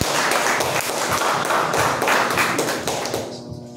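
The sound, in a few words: congregation round of applause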